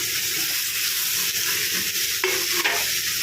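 Chopped tomato fries with browned onion in a pan, a loud dense hiss of sizzling with a few stirring scrapes near the end.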